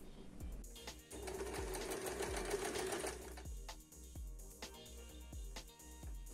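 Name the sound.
semi-automatic sewing machine sewing a bar tack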